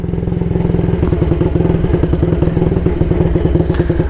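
A 1938 AJS Model 22 250cc single-cylinder motorcycle engine idles steadily close by, a loud, even thumping beat with mechanical clatter running throughout, no voices.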